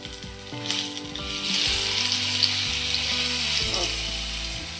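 Medu vada batter frying in a pan of hot oil gives a steady bright sizzle and bubbling that rises and holds loud throughout, with faint low background hum.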